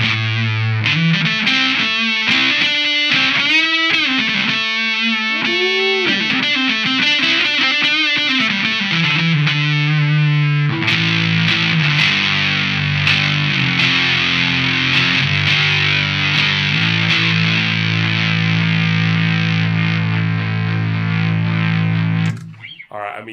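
An electric guitar plays through a Universal Audio Enigmatic '82 overdrive pedal into a cheap Fender amp. Loud, gritty lead phrases with bends move into sustained distorted chords that ring out at length before stopping.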